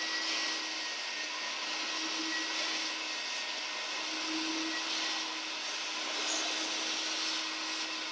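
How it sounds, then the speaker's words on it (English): Vacuum cleaner dry-vacuuming a shampooed cloth car seat: a steady, loud drone with a constant hum and light rubbing of the nozzle over upholstery, no voices. "Now we'll just follow up with a dry vacuum and let it pull all that dirt and gunk, food, wherever that was out of the seat."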